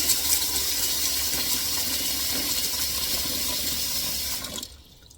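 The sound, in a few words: water poured into Dutch oven over black-eyed peas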